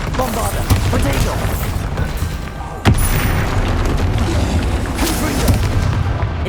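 A Bombarda spell explosion in the Hogwarts Legacy video game: one sharp, loud blast near the middle, set against a continuous bed of rumbling game combat with smaller booms around it.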